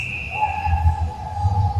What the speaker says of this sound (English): A lot of whistles. That's what refs do, they whistle.